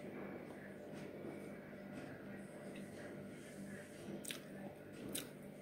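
Close, soft chewing and biting of bibikhana pitha, a Bengali coconut rice cake, with moist squishy mouth sounds and a couple of brief crisp bites near the end.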